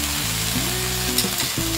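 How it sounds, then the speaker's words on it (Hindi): Radish leaves tipped into a pan of tomatoes and peanuts frying over medium flame, giving a loud continuous sizzle with a low hum and a brief disturbance as the leaves go in. "अब हम इसमें डालेंगे ये मूली के पत्ते."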